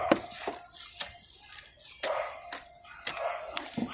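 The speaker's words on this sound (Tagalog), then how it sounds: "Kailangan po natin mabasa mabuti ng tubig" Water splashes and drips in irregular bursts as it is poured onto native bitter gourd seeds, trickling onto a surface up close, with no voices over it.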